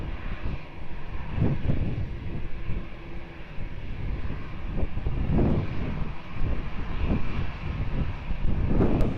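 An airliner departing runway 20 at Lisbon Airport, a steady, continuous jet engine roar with wind noise, heard from a distance without pause.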